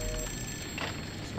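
A telephone in the video game The Suffering: Ties That Bind gives a short electronic trilling ring, a brief burst over a dull steady background hum.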